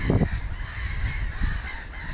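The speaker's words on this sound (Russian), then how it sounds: "И птиц многоголосие." Many birds, including ducks and geese, honk and call together outdoors in Pskov, with a louder burst of honking near the start and a fainter one later over steady background chatter.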